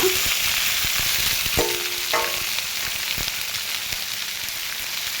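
Ivy gourd and beans fry steadily in a hot pan, a dense continuous sizzle with a few clinks of a spatula stirring through it, close and fairly loud with no voices.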